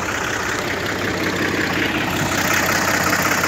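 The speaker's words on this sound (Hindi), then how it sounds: "पहले इसका साउंड चेक कर लो।" A 2012 Al-Ghazi diesel tractor engine idles steadily nearby with a constant rumbling chug, loud and unbroken throughout.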